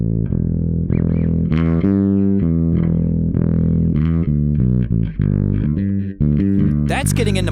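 Heavily distorted bass guitar through a Creation Audio Labs Grizzly Bass pedal set to full distortion, a run of sustained, gritty notes, loud and close, with a brief burst of noisy scraping at the end.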